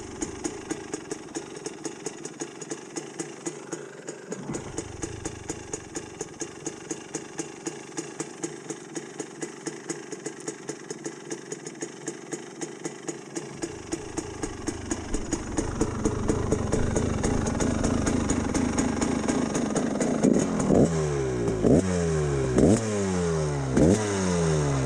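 A GPX TSE 300R motorcycle engine idles steadily close by, then is revved in several sharp, rising blips near the end, each climbing and falling back, with no talking.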